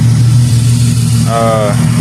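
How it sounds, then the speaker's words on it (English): A V6 car engine with no muffler runs loud and close, its deep, raw rumble holding steady for the whole stretch, with a brief higher tonal sound over it near the end. "no muffler on this car. So V6. I think it sounds pretty good. I hope you guys like the revs."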